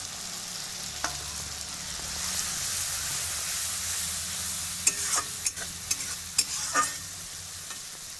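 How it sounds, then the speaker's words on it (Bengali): Onions and chilli powder fry in a pan with a steady bright sizzle; several sharp scraping stirs of a spatula come in the second half. "এখন আমি লঙ্কা পাউডারটা যে রেখেছিলাম, এখন ওইটা দিয়ে দিব। ওটা দিয়ে একটু ভাজবো।"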